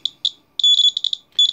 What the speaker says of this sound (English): There's my low level alarm.